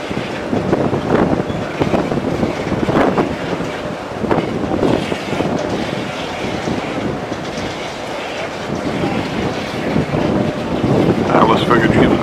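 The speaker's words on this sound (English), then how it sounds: "Very windy." Strong wind buffets the microphone on the open deck of a Caribbean cruise ship under way, a steady loud roar with gusts swelling throughout and faint voices beneath.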